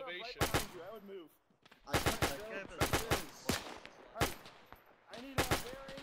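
A WW2-era US .30 cal machine gun fires in ARMA 3 in repeated loud bursts of rapid shots separated by short pauses, with voices talking between and under the bursts.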